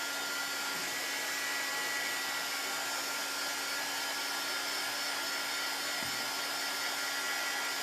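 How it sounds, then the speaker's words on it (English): A craft heat dryer blows steadily and continuously on drying chalk paste, a loud, even broadband whoosh with a low steady hum underneath and no talking. "So we'll just hit it with the dryer."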